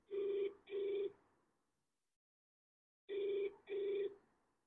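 A telephone ringing on an unanswered prank call: two double rings separated by a long silent gap, each ring a pair of quick electronic trills, faint and alone with no voices.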